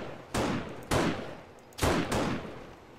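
Sniper rifle shots in the zombie survival game 7 Days to Die: four loud, sharp cracks in two pairs, each with a trailing decay, close and alone with no talk.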